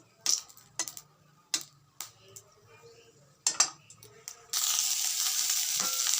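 Potatoes frying in a pan in a home kitchen, first heard as scattered clicks and stirring taps, then a steady loud sizzle that rises suddenly and holds to the end.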